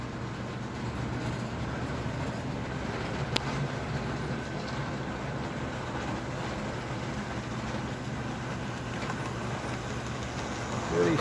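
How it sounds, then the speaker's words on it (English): Steady low rumbling of American Flyer model train cars rolling along track, with a faint rhythmic clicking from a flat wheel on the last passenger car running continuously throughout. "I think that last car has got a flat wheel."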